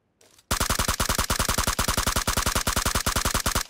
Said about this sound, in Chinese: 不行，得节约弹药